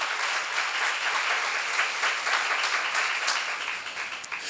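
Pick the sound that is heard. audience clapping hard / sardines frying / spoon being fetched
audience clapping hard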